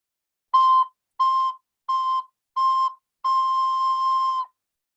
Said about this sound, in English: So take your recorder, make sure that you have high C.